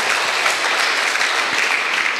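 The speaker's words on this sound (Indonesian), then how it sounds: "tepuk tangan semuanya, saudara" Congregation applause at a church sermon: dense, steady clapping from a full audience filling the whole stretch, loud and continuous with no talk over it.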